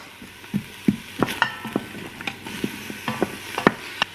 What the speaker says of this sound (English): I'm gonna just move this around and we're gonna cook it until the onion is translucent.